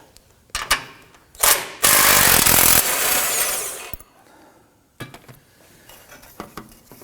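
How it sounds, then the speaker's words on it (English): A 15mm bolt is loosened and removed from the throttle body of a 2015-2020 Ford F-150: scattered metallic clicks, then a loud harsh burst of tool noise lasting about two seconds, fading into lighter clinks and taps. "we're going to loosen and remove our 15mm bolt"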